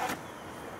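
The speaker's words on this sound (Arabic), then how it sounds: "اطلع شغلي السيارة عشان المعلم يسمع صوت الموتور" A car whose gears will not engage starts with a short burst, then settles into a low, steady idle rumble, quiet and with no voices over it.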